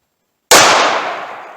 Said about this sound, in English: first rounds we're going to test are going to be the Monarch 38 Special 158 grain. I'm going to start with the Taurus